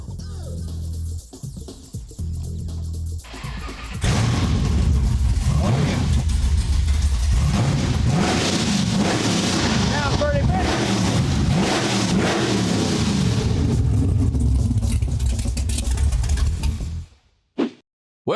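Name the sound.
car engine with open headers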